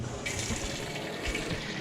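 Hot water runs steadily into a washing machine drum at the start of a small load of microfiber towels, a continuous close rushing pour with a brighter surge after the first moment.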